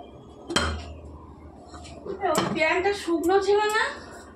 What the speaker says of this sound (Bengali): কড়া বসিয়ে দিয়েছি, এবার কড়াতে তেল দেবো।